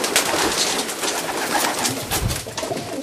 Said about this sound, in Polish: Tutaj jest gołąb, kupiony tutaj, zakupiłem go.